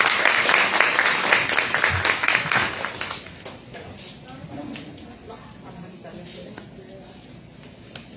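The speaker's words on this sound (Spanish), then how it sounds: "Un aplauso para Frances Simán." A university audience applauds to welcome a poet speaker, strong clapping for about three seconds that fades into scattered claps and murmuring voices.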